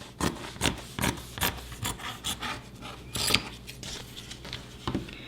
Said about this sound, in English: I'm going to cut out all the way to the edge